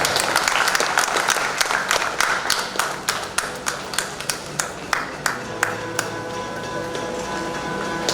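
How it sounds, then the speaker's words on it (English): Audience applause at an academic event honoring a guest lecturer, a steady dense round of clapping with a few distinct sharper claps standing out, filling the room throughout. "Please be big round of applause"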